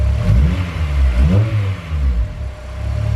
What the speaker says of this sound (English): Gonna blip the throttle.